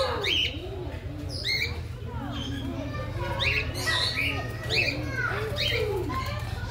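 White pigeons at a bird park cooing and squawking close by, with scattered bird calls over a steady low background hum while people talk nearby.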